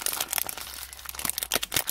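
Crinkling and crackling as leftover adhesive tape is peeled off an Advent calendar's paper, a run of close, uneven rustling bursts.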